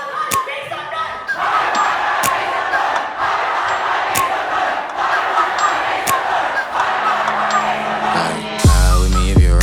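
A large crowd at a live hip-hop show roars, cheers and shouts continuously with sharp claps and hits throughout, loud and close, with a deep musical swell near the end.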